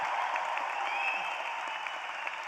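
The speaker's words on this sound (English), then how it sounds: "Let's start our program by giving our graduates a big round of applause" An audience at the Tickle College of Engineering spring 2022 commencement ceremony gives the graduates sustained applause, a dense wash of many hands clapping in a large hall, steady and fairly distant.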